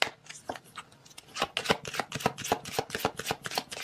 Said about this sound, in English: Let's get some oracle cards here.